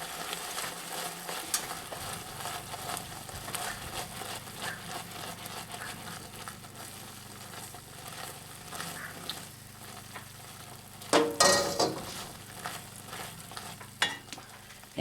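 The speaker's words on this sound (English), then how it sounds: "Stir it until it's absorbed." Arborio rice for rice pudding being stirred in a pan over low heat, a steady soft scraping with a faint simmer underneath, then a brief louder clatter near the end.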